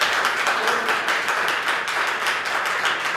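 An audience at a state Senate budget committee hearing claps steadily, a dense, moderately loud patter of many hands with no speech over it.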